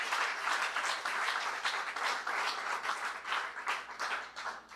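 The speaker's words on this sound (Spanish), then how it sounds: "te le puede dar un aplauso, aleluya" A church congregation applauds together, a dense, sustained wash of many hands clapping at steady loudness throughout, with no speech over it.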